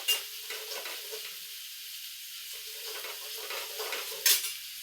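Garam masala and other spices roast in a pan while being stirred, a soft steady sizzle with light scraping strokes and a brief metallic clink near the end.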